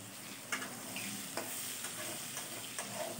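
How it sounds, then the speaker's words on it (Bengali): Whole cumin and chopped onion fry in hot oil for a Bengali bhola fish curry, making a faint, even sizzle punctuated by light, occasional stirring clicks. "ওই গরম তেলে গোটা জিরে আর কুচো পেঁয়াজ দিয়ে ভালো করে"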